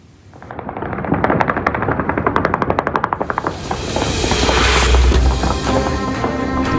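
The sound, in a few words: celebratory gunfire into the air in Beirut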